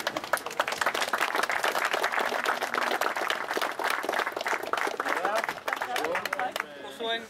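Crowd applause at a BMW concours d'elegance at Knutstorp, steady outdoor clapping from many hands for several seconds, tapering near the end with some voices underneath.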